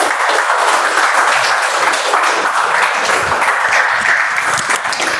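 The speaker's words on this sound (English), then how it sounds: "let's give a huge round of applause for our Toastmaster of today's meeting" Sustained applause from an audience at a Toastmasters club meeting, dense and steady throughout, loud and close, with no voices over it.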